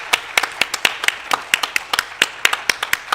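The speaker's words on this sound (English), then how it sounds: "How about a nice round of applause for our board members" Sparse, sharp handclaps from a small audience at a school board of education meeting, individual claps ringing out unevenly and close by, with no talk over them.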